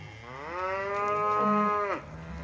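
Cattle on a farm low and moo as the herd is moved down across a big creek, cows and calves together; one long, loud, drawn-out moo fills the clip, with a second animal calling beneath it near the end.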